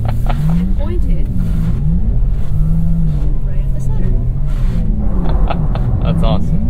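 An electric all-wheel-drive Porsche accelerates and drifts at the Porsche Experience Center in Los Angeles, giving a loud, constant rumble with a rising and falling whine, while people talk over it.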